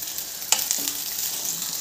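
Cooked rice is stirred gently in a frying pan, with a soft, steady sizzle, one sharp scrape near the start and faint light scraping after, close and quiet.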